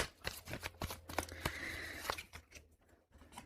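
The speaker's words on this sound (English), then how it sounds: "I'll shuffle." Tarot cards shuffled by hand, a quick run of crisp riffling flicks and soft slaps with a sustained ruffling burst in the middle, close and fairly quiet, with no talking.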